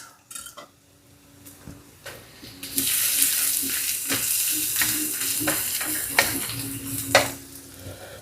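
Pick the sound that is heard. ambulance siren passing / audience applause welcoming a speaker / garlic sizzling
garlic sizzling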